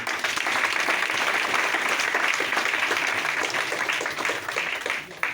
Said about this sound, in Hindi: एक जोरदार ताली फिर से